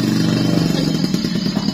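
A motorcycle engine rumbling close by, a loud, steady low throb with a rapid pulsing beat.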